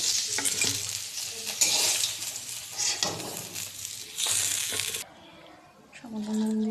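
Food fries in hot oil with a busy, crackling sizzle, stirred close up with clinks of a utensil against the pan, then the sizzle drops away and a brief voice follows.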